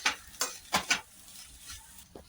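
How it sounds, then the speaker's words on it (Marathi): Poha being stirred together with chopped onion and fresh coriander in a pan, four or five distinct scraping strokes at the start, then a quieter soft sizzle with one last scrape near the end, no talking. "मिक्स करायचं आता आपल्याला"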